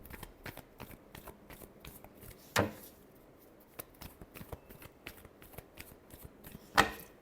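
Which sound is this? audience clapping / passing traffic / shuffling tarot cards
shuffling tarot cards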